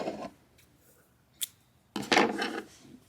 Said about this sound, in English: And now I'm going to cut my yarn.